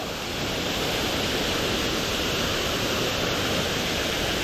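A steady, full roar of rushing water from Middle Creek Falls heard up close, constant and broadband with no other sounds.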